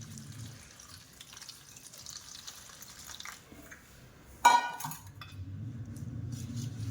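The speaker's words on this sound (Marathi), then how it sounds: "प्रथम हा पाला आपण स्वच्छ धुवून घेणार आहोत" Freshly picked moringa leaves are washed by hand in a vessel of water, with gentle sloshing and trickling, then a sudden louder splash and pour near the middle that settles into running, rushing water, close by and without speech.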